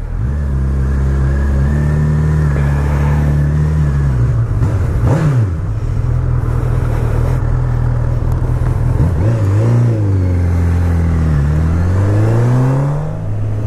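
A 2019 Honda CB1000R Plus motorcycle pulls away loud and close, its inline-four engine rising through revs, dipping between gear changes, then climbing and falling again in long sweeps over a steady rumble.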